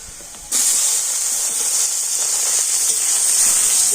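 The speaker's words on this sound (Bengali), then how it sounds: "টমেটোটাও তেলের করে আমি একটু হালকা করে ভেজে নিব" Tomatoes frying in oil in a pan, a loud steady sizzling hiss that starts suddenly and continues evenly to the end.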